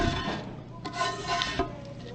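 A spatula scrapes stuck, burnt bits off a dakgalbi pan at a Chuncheon restaurant, with several fairly quiet, rough rubbing strokes against the metal and no talking.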